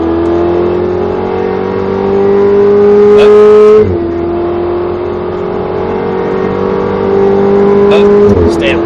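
A car engine winds out loudly on a racetrack, its pitch climbing steadily through the gears with a short break at each shift, heard from inside the car under a voice.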